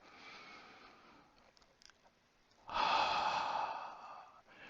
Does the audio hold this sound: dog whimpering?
no